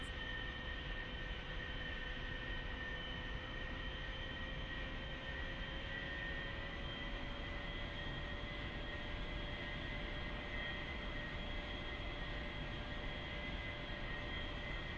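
A-4E jet taking off in the flight simulator DCS World during a Blue Angels airshow practice, a steady, continuous engine roar and whine that holds level throughout with a slowly rising tone and no voices.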